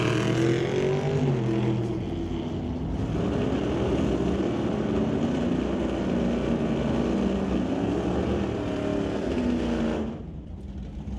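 Drag racing cars, a Roadster and a Nova, running at an NHRA Northwest National Open Series event: a loud sustained engine roar with rising revving tones that drops off sharply near the end.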